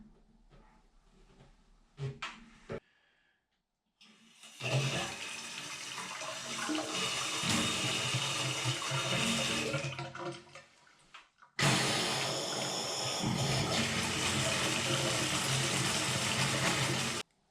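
Water rushes through newly installed household plumbing as it is turned on for the first time during a cluttered house renovation: two long, loud, steady gushing bursts, separated by a short pause, with brief handling noises before them.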